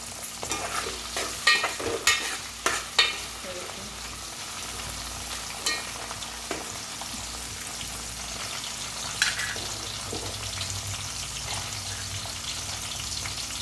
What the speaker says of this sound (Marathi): आता आपण ह्याच्यात टोमॅटो पण टाकून घेऊया आणि टोमॅटो परतून घ्यायचे आहेत.